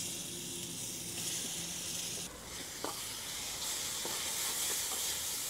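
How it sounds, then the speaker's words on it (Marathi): Steady, even sizzle of baingan bharta frying in a hot onion and curry-leaf tadka, a constant hiss with a brief dip and a faint clack midway. "आपण आता भरीत घालून घेऊ।"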